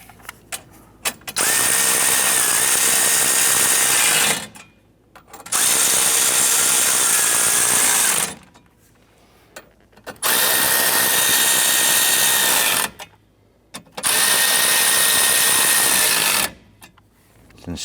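A power tool runs in four long bursts of a few seconds each, separated by short pauses, as it snugs down bolts on a 2008-2013 Nissan Rogue HVAC blower motor assembly; the whine is loud and close.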